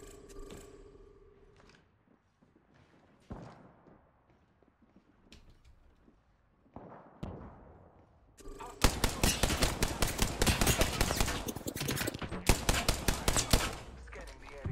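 Gunfire in Apex Legends during a firefight: sparse shots and sounds in the first half, then a dense, loud, rapid automatic burst that runs on for several seconds, with brief gaps.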